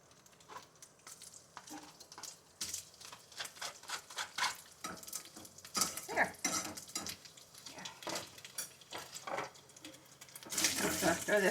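Cream cheese is stirred into cooked beef in a pan, with repeated nearby scraping and clinking of a utensil against the pan over a faint sizzle.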